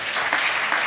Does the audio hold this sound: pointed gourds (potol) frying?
no